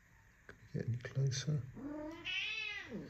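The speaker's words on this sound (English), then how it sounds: "That's my cat" A person asks a short question, then a deaf cat lets out a drawn-out, rising and falling meow close by.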